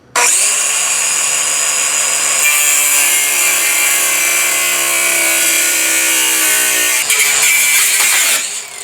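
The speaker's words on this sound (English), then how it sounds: "I'm going to use this cutoff wheel and cut this head off over here" A cutoff wheel grinds through the head of a front sway bar bolt on an Impala, a loud, continuous high-pitched whine with a steady metallic screech that runs unbroken for several seconds before a brief dip and a final surge.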